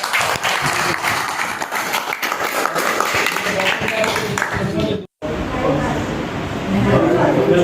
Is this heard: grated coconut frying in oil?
no